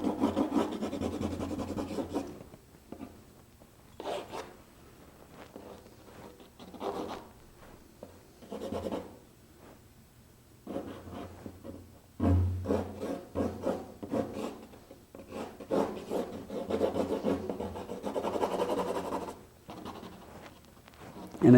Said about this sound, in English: I'm drawing, I'm putting a lot of pigment on here.